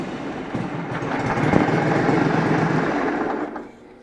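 A Briggs & Stratton Intek V-twin engine runs steadily after a rope pull start, a loud continuous mechanical drone that holds for about three seconds and then drops sharply in level near the end.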